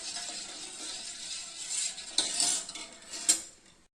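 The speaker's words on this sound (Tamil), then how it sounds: "இப்போ நம்ம அடுப்பு வந்து மீடியமாக வச்சுட்டு நல்லா கை விடாமல் கிளறுங்க." A pot of red rice porridge being stirred continuously over medium heat, with a utensil scraping and clinking against the pot in steady, close strokes and a few sharper knocks near the end.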